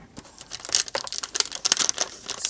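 Crinkly plastic wrap being cut off a box of Blick Studio colored pencils, a close, irregular run of crackling and tearing rustles with no talking.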